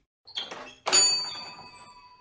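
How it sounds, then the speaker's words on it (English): A bakery shop door opens with a short scrape and rattle, followed by a sharp thunk and a ringing, bell-like tone that slowly fades, close and clear with no voices. "The baker opened the shop door to let Robert out."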